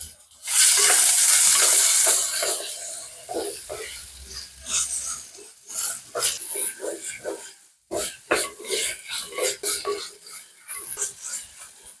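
Coconut, ginger and onion fry in a clay pot while being stirred, giving a loud hiss at first, then intermittent scraping and sizzling under a person talking.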